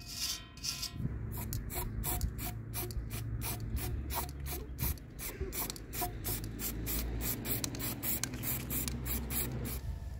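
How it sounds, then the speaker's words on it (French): Spray varnish applied over the repainted bodywork of a camper van, a steady hissing spray with rapid rhythmic pulses of the nozzle, close and fairly loud throughout with no talking. "ensuite vernir le support complet, comme ça au moins la peinture ne partira plus"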